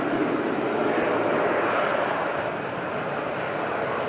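A fixed-wing airplane roars steadily down runway 05 at windy Madeira Airport, a loud, continuous broadband engine rumble with no break across the whole span.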